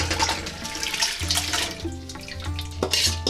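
Six cups of water poured into a cooking pot for Greek lentil soup, a steady close splashing stream with faucet-like rushing that shifts in pitch as the pot fills, no voices.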